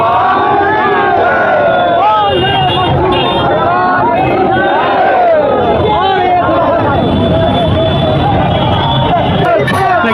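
A dense, loud crowd of devotees fills the air at Lord Madhusudan's chariot procession in Baunsi, with continuous overlapping voices, shouts and chanting slogans blending into a steady roar.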